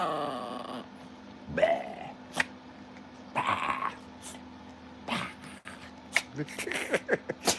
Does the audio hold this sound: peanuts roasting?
no